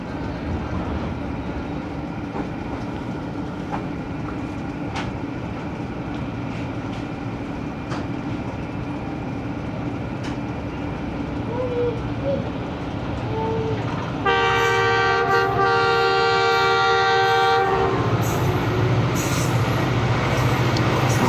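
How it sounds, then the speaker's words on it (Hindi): The Karakoram Express passes through a station in Pakistan without stopping: a loud, steady rumble and clatter of railcars close by, followed by a blaring multi-tone horn that sounds for several seconds before the rolling noise carries on. "अब कराकरम एक्सप्रेस बस यहाँ से थ्रू पास करने लगी है"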